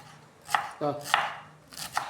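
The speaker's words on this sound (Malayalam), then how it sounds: "ചെറുതായിട്ട് അരിയണം." Knife finely chopping green chillies, garlic and cumin on a board for cheera thoran, a few sharp close taps spaced unevenly over about two seconds, with no talking.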